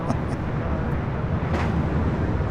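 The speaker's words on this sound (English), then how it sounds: "I just missed the aircraft." Aircraft passing at LAX airport, a steady broadband roar with heavy low rumble and wind buffeting on the microphone, loud and continuous throughout.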